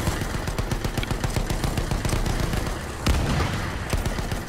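Shotgun blasts in Battlefield 1 going off amid a dense, continuous barrage of game gunfire and explosions, with one heavier burst standing out near the end.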